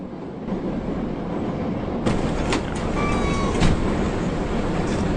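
Steady rumble of a video-game train rolling along the track, loud and continuous with a few sharp metallic clanks and a brief high squeal partway through, no voices.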